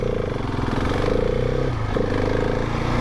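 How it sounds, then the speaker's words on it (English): Husqvarna 701 Supermoto single-cylinder motorcycle being ridden, a steady close engine drone with wind rush and a brief dip around two seconds as it downshifts smoothly through the gears. "Downshifting manually is nice, very smooth, gets down through the gears lovely."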